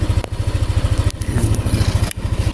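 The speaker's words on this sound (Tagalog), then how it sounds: "So, painitin muna natin yung makina." A motorcycle engine idles while warming up before a ride, a fast, even chugging pulse close by and loud, with a few brief clicks and dropouts along the way.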